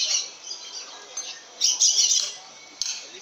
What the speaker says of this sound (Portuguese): É periquito da mata.